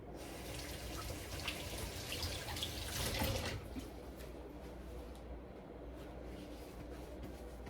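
Zuppa Toscana soup being poured into a larger stock pot in a home kitchen, a steady liquid pouring wash that swells for a few seconds then settles into a quieter background.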